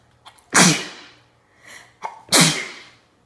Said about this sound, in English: Hold on, gotta sneeze.